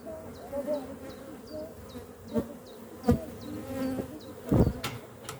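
Honeybees buzz steadily and close by while a grafted queen's colony is shifted from a honey-packed hive into a new one, with a few sharp knocks and thumps of hive handling.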